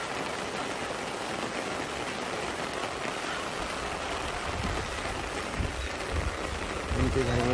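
Steady rain falls over a flooded neighbourhood where water has entered homes, a dense even hiss of drops on water and surfaces with faint voices and splashes near the end.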